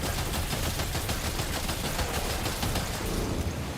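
Rapid, sustained gunfire from a video game fills the whole stretch, dense automatic bursts close and loud with no gaps and no talk over it.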